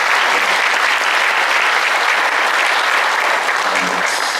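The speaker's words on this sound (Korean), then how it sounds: "다시 한번 힘내시라고 큰 박수 한번 부탁드립니다" Loud, dense applause from an audience at a live-streamed debate forum on urban and cultural regeneration, steady and sustained throughout without any speech.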